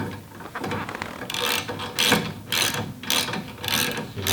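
A ratchet with a 19 mm metric socket tightens a bolt on a Bowflex LX3 lateral trainer, giving several separate bursts of rapid, close pawl clicking with short pauses between strokes.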